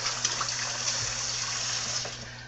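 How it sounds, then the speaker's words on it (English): Hands rinsed under a running tap, a steady close splash and hiss of water flowing for a couple of seconds. "Let me just rinse my hands real quick."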